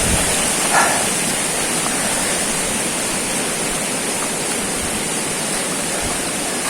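A small, shallow stream flows along a hiking trail in General Nakar, Quezon, making a steady, loud, continuous rush of water close by with no voices.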